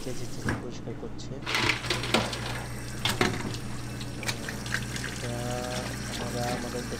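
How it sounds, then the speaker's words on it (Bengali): Water is poured repeatedly while food is scraped clean in a Korean restaurant, a steady run of splashing and trickling with scraping over a constant background hum, with people talking throughout. "পানি ঢেলে ঢেলে চেঁচে পরিষ্কার করছে।"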